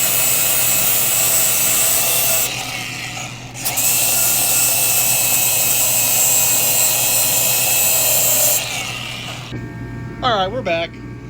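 A boat engine being cranked, sounding as a loud, steady whine and whirr that stops briefly, resumes for several seconds and then cuts out, with a voice speaking near the end.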